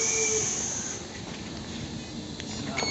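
A new Berlin S-Bahn train on line S47 runs past close by, giving a steady broadband rumble and hiss of wheels and motors with faint high whines and brief squeals, no voices.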